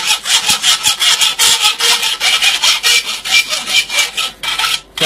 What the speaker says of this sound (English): you start trying to rasp the leading edge of your wedge